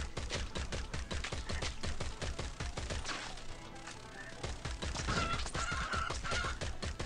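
Game ducks flying off in the mobile game Swamp Attack 2, with rapid quacking and honk-like fowl calls over repeated percussive taps and thuds, loud and busy throughout, with a brief quieter stretch midway.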